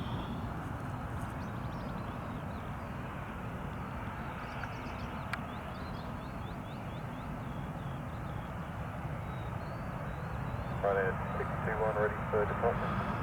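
A plane landing at London Stansted Airport, heard through the perimeter fence as a steady, loud engine roar that holds for the whole stretch and swells near the end, with faint voices in the background.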